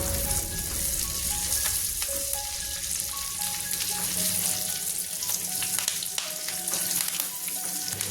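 Ginger fries in hot oil with green chillies and curry leaves, a dense, continuous hiss and crackle that stays close and steady throughout, with a few faint tonal beeps in the background and no speech.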